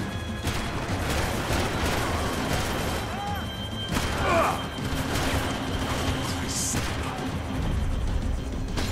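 Gunfire in Max Payne 3, scored as a triple headshot, comes as dense, rattling bursts over a steady wash of game noise and music, with someone talking throughout.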